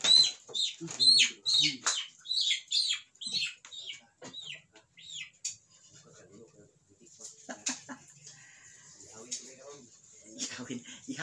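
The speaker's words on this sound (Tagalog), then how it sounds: "Baka naman magtugpa-tugpa ang manok dito." Chickens near a rural kitchen give a run of loud, close squawks and clucks, tapering to scattered softer clucks, with people talking in between.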